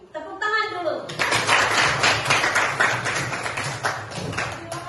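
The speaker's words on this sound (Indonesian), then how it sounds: "Tepuk tangan dulu." A classroom group claps hands together after a short spoken lead-in, a sustained burst of fairly close, loud clapping that tapers off toward the end.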